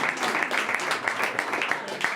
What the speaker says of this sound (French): Applaudissez, faites du bruit